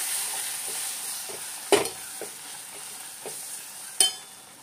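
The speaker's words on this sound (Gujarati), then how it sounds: "હલાવી લઈએ." Green chillies with gram flour cooking in a pan, a soft low sizzle under a few distinct scraping stirs and two sharper knocks of the spoon against the pan, close and quiet, no voices.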